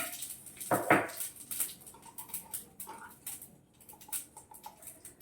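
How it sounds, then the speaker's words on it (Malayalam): Mustard seeds pop and crackle in hot oil, with scattered sharp ticks and a few louder pops, fairly faint and close. "കടുക് പൊട്ടുന്നുണ്ട് കേട്ടോ"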